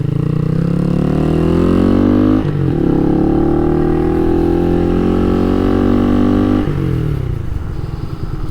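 Honda Monkey motorcycle with an added oil cooler, ridden at steady speed, its small engine droning loud and close with rising and falling pitch as it changes speed, and no voices.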